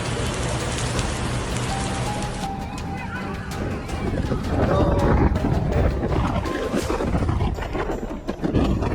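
Dense, steady broadband hiss of heavy rain pouring down on Makkah, more than 80 millimeters in under an hour, continuous and loud throughout, with faint low rumbling beneath.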